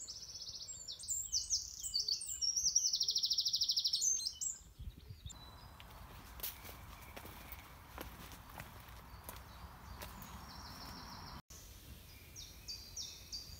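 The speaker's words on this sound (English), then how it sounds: "Very, very quiet, apart from the birds." Birdsong rings through quiet beech woodland on a misty morning, chirping phrases close by at first, then fainter calls over soft footsteps and rustling.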